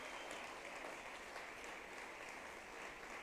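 A church congregation applauds during a Spanish-language service, a soft, diffuse, continuous patter of clapping heard from a distance.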